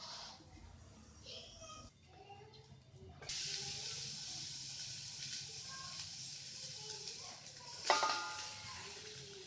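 Boiled rice for chicken biryani being drained through a strainer, a steady watery rush and hiss that grows louder partway through, with a splashy burst near the end.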